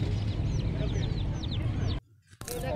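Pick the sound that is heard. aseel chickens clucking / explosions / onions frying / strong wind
aseel chickens clucking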